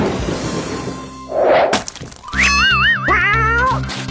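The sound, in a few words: cat meowing, from a video game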